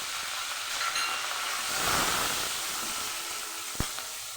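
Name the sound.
slit green chillies frying in hot oil with black cumin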